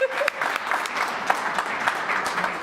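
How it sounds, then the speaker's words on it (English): An audience at a college business faculty and staff awards banquet gives a short burst of steady applause. "Let's clap for"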